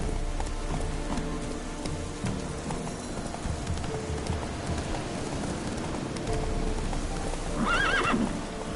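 Roach, the horse in The Witcher 3: Wild Hunt, gallops with rapid, steady hoofbeats over a rainy, noisy game backdrop, closing with a clear neigh near the end.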